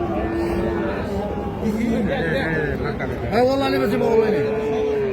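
Young Sahiwal-cross bull calves at a cattle sale, with a few drawn-out moos rising over the steady chatter and babble of the market crowd, while people talk nearby.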